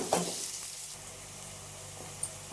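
Onions frying in a pan for a taro root curry give a soft, close sizzle, with a couple of brief stirring clinks near the start and end.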